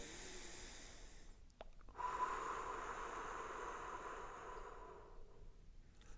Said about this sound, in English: Deep breath in. Last one, deepest breath of the day.